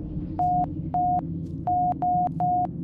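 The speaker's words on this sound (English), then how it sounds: "On task, the transmission's in Morse code." A Morse code radio transmission in the video game ArmA 2 sounds as a steady electronic tone keyed on and off in five short bursts of even pitch, clear and alone over a low background hum.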